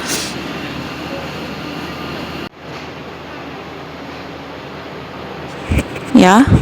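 A long Vande Bharat train rumbles steadily, with a continuous roar of rolling wheels, followed by a sharp squealing tone near the end.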